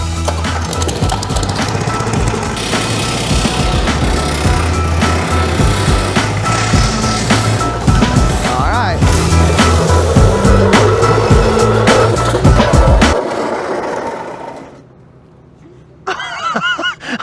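A kids' go-kart is driven hard and thrown into drifts, its small engine buzzing loudly and steadily for about thirteen seconds with rattles and tire noise, then cutting away to near quiet before a brief burst returns.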